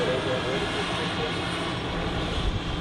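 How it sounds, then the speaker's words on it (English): An Airbus A320 departing for Gran Canaria gives off a steady, broad jet roar with no breaks, loud and close throughout. "Airlines A320 going to Gran Canaria."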